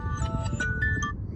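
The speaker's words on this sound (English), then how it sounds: "Sorry, y'all. That was my alarm." A phone alarm rings with a repeating electronic melody of short tonal beeps, fairly clear over a low background rumble.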